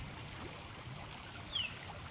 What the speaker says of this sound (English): I have the sound of the waterfall here